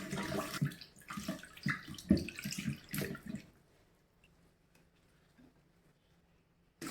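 Running tap water splashes over freshly picked basil leaves being rinsed, a close, uneven gushing wash for about three seconds before it stops and near silence follows.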